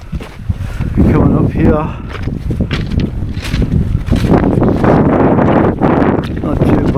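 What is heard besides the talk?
strong wind buffeting outdoors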